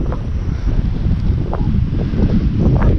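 Strong, steady wind buffets the microphone with a loud rumbling roar at a rural canal mooring beside a bridge, gusting throughout without any speech.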